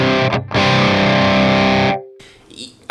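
Electric guitar played through an Axe FX III modelling a EVH 5150III amp with the EQ turned off gives a loud, heavily distorted chord that rings for about two seconds after a brief stab, then stops sharply.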